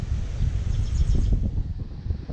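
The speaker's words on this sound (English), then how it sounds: "We're a bit on the windy side." Steady wind buffeting outdoors beside beehives during a hive check, a continuous low rumble with gusts rising and falling, no voices.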